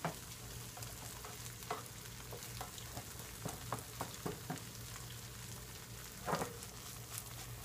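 A grilled cheese sandwich fries in a non-stick skillet, giving a quiet, steady sizzle with scattered soft crackles and a few light scraping taps.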